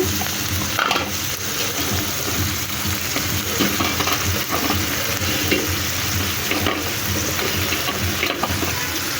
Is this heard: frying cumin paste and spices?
yes